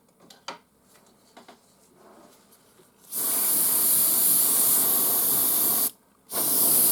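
An airbrush sprays paint onto Necromunda model terrain walls in two bursts of steady hiss, a long one and then a short one after a brief pause, following some faint handling sounds.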